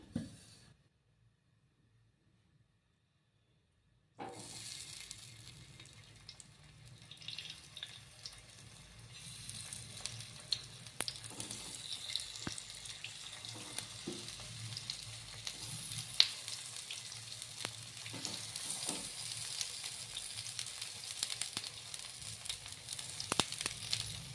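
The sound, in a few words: colocasia rolls shallow frying in oil on griddle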